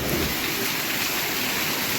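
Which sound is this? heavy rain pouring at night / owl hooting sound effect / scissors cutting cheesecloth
heavy rain pouring at night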